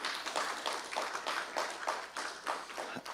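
A crowd at a financial lecture applauds to welcome a speaker, a dense, steady wash of clapping hands holding for several seconds at moderate loudness.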